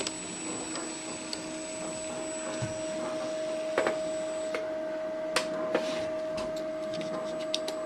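An Aristo-Craft 2-axle model train motor block, weighted down, runs over turnouts with a steady whining motor hum and scattered light clicks and ticks as the wheels cross the track joints, moderately close with no talking.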